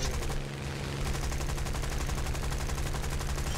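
Continuous rapid aircraft machine-gun fire in the combat flight game War Thunder, a dense, loud, evenly pulsing rattle over a steady engine drone from a Typhoon fighter.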